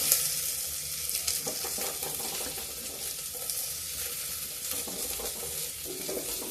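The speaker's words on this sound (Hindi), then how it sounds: "अब डालते हैं प्याज" Onion fries in a pan alongside garlic, giving a constant close sizzle with occasional stirring scrapes, loud and unbroken across the whole stretch.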